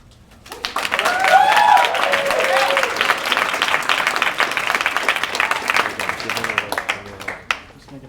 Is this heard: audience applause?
yes